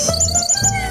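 Birds chirp in a quick bright burst of repeated tweets, close and clear over a faint background tone.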